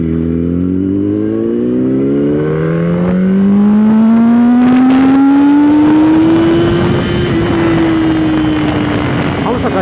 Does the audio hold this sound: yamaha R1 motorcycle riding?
yes